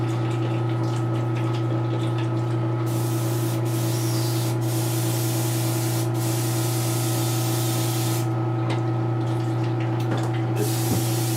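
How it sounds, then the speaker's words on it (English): An airbrush sprays yellow paint with a steady, close hiss over a constant low compressor hum, the spray cutting out briefly a few times. "Airbrush is getting clogged."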